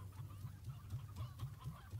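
Chickens from the video game Slime Rancher cluck in a steady, rhythmic stream of short, repeated calls, fairly close and clear, with no talking over them.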